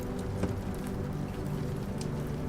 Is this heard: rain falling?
yes